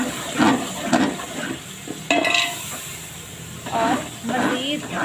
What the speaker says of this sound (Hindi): और मज़ीद 2 से 3 मिनट तक भूनेंगे, यहाँ तक कि चनों से घी अलग हो जाए।